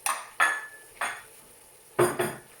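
Dried chickpeas clattering into a metal pot of water while making Moroccan harira soup, a few sharp nearby clinks and rattles in separate bursts with short pauses between.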